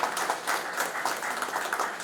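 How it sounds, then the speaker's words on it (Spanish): An audience at an academic dialogue on the Guaigüí dam project applauds, the clapping dense and fairly close with a gently pulsing swell throughout. "Y bueno, sí, el aplauso."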